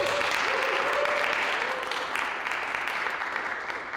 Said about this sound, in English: Round of applause for the Carver.